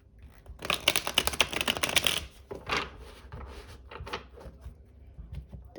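Tarot cards being shuffled by hand: a close, dense run of rapid riffling flicks for about two seconds, then a few softer shuffles and taps of the deck.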